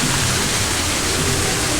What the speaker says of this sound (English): they've added a waterfall here